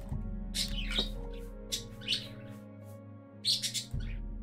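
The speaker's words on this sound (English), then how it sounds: "Yes, I hear you, birds." Birds chirp in the Elder Scrolls IV: Oblivion game world, several short bright bursts of tweets spaced apart over a low steady ambient hum, with no one talking.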